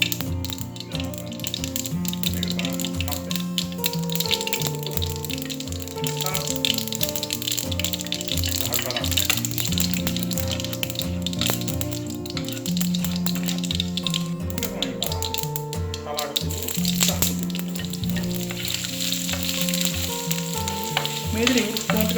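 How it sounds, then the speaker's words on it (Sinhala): Mustard seeds fry in hot oil for a Sri Lankan green apple curry, a dense, steady crackle and sizzle with scattered pops and rattles throughout, loud and close, with no talking over it. "මුලින්ම මම කරන්නේ මේ විදිහට අබෑර ටික දාගෙන මේක පොඩ්ඩක් බැද ගන්න."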